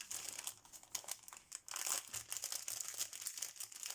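Paper packaging crinkled and torn open at a crafting table with die-cut pieces, close and fairly quiet crackling in irregular bursts with no talking.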